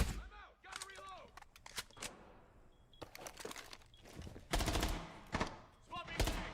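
Gunfire in Rainbow Six Siege, rapid bursts of automatic shots and single cracks spread across the clip, some loud and near, with a player talking in between.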